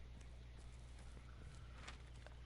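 A horse walks in the video game Hunt: Showdown, with faint, steady clip-clop hoofbeats over a low droning background hum.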